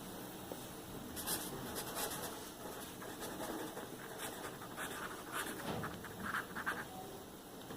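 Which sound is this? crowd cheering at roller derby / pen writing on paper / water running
pen writing on paper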